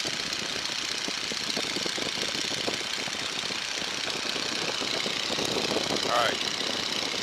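A Stearman biplane's radial engine drones steadily and loudly in flight at about 600 feet during the approach, a continuous rough roar with no pauses.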